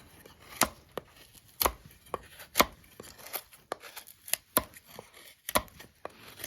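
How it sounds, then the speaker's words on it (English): A Varusteleka Jaakaripuukko knife chops wood in light bushcraft work, sharp irregular chopping strikes, about a dozen over several seconds, close and crisp with quiet gaps between. "let's try some light chopping with it"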